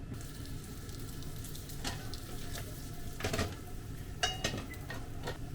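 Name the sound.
yakisoba noodles frying to a crispy bottom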